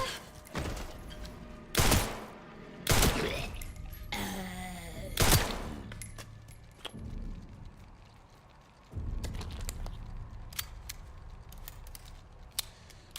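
Gunfire in Resident Evil Requiem: several loud, sharp shots spaced about a second apart, the last followed by a quieter stretch of scattered clicks and rattles.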